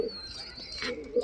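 A crested green-headed pigeon coos briefly, close and soft, a short low call with faint background noise.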